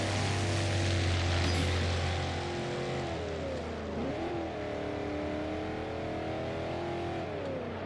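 A Ford Mustang races a Mustang airplane on Red Rock Road in Forza Horizon, with a loud sustained engine drone that swells and dips in pitch as the car accelerates, alongside a steady propeller hum.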